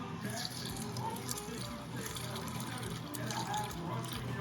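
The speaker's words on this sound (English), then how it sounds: "This is all the liquids going in." Chicken stock, water and other liquids pouring into a pot of Louisiana Cajun pork and sausage jambalaya with Rotel tomatoes, a steady splashing wash running throughout with faint voices in the background.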